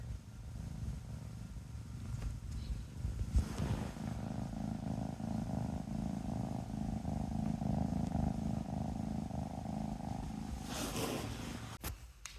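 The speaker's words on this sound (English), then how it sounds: "She's purring." A house cat purrs steadily and close up on her first morning in a new home, a continuous low rumbling hum that runs for about ten seconds before a brief rustle near the end.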